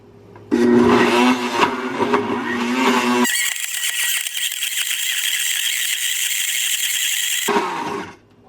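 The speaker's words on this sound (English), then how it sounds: "over my Medjool Dates to soften them up a little bit before I blend them" A blender whirs through Medjool dates and milk, first a rattling, lower-pitched churn for a few seconds, then a sudden shift to a smooth high-pitched whine that runs steadily before cutting off.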